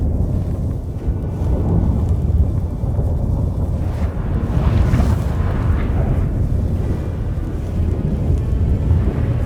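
A thunderstorm rolls through in The Witcher 3, a loud, continuous deep rumble with gusting wind and a swelling roar near the middle, heavy and unbroken without voices.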